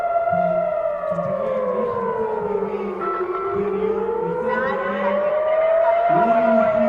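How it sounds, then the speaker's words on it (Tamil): A loud wailing rocket warning siren rises and falls slowly and steadily, with a lower engine-like drone running beneath it throughout. "சைரன்ஸ் காசாலேருந்து வரும்போது ராக்கெட்ஸ் காசாலேருந்து வரும்போது சைரன்கள் இப்படி தான் ஒலிக்கும்"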